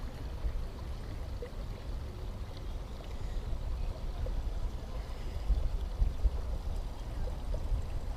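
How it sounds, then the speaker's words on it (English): Waterfall cascading from a hilltop into a garden pond at Rockway Garden in Kitchener, Ontario: a steady, moderate rushing and splashing wash that continues without a break, with no talking. "cascading down from the hilltop into a pond"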